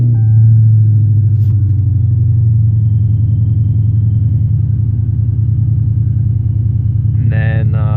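Dodge Challenger with a TH400 automatic transmission idles steadily after starting, a loud, deep, even engine rumble filling the whole stretch, with a brief chiming tone near the end.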